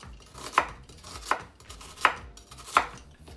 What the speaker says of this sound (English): we're just gonna cut into the onion